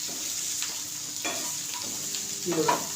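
Chopped onion sautéing over low heat in a pan for an okra stir-fry, a steady soft sizzle with scattered spoon scrapes and a louder stir near the end.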